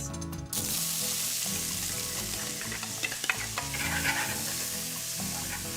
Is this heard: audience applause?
no